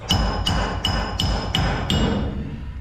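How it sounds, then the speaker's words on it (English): Six evenly spaced sharp metallic hammer blows on a chisel during shaft separation work, close and loud, steady rhythm with no talking. "A few determined blows with a real chisel"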